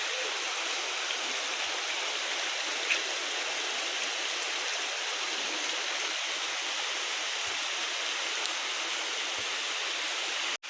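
Floodwater after two days of heavy rain rushes in a steady, dense wash, continuous and unbroken throughout.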